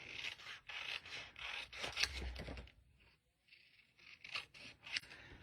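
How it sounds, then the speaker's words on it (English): Scissors fussy-cut around a stamped paper image in short snipping and rasping bursts, close and quiet, with a brief pause partway through before more cuts. "I'm going to give this a little fussy cut right quick"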